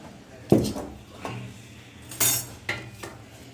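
A metal tawa griddle pan is lifted off a kitchen stove, giving a few sharp clanks and scrapes spread over a few seconds, moderately close.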